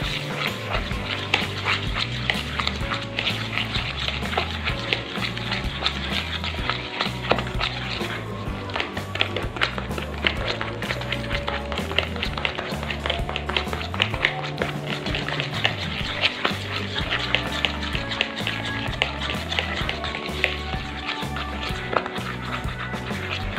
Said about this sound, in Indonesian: sekarang ini mau aku aduk dulu sampai tercampur rata aja